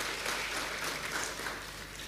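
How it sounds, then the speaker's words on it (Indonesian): Dense, continuous applause from an audience at a university pre-graduation briefing, a brief wash of many hands clapping at once with no voices. "tepuk tangan untuk beliau"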